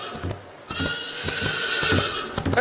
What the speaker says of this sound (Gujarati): તબડક તબડક તબડક જ્યાં ઘોડાનો અવાજ થાય